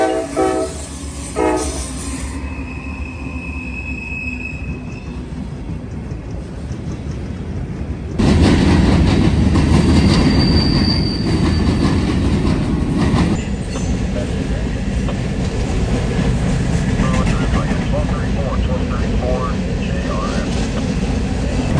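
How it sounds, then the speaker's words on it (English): A Norfolk Southern northbound freight train of empty grain cars passes near in Marion, Ohio, a loud steady rumble and rolling clatter that swells partway through, with a horn blast early on. "next up was NS northbound 41N. This is empty grain loads out of somewhere in West Virginia."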